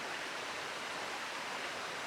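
A river flows through woods, heard as a steady, even rush of water noise, moderately faint and unbroken, with no voices or other sounds over it.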